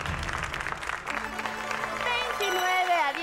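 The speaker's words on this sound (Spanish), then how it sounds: "Un fuerte aplauso porque son 6 aciertos" Studio audience applause on a Spanish-language game show, a steady broadband clatter of many hands filling the whole stretch, with a host's voice and a short musical sting rising over it near the end.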